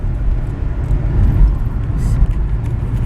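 A car passing along a town street, a broad low rumble that swells and fades over a few seconds, nearby, with faint background voices.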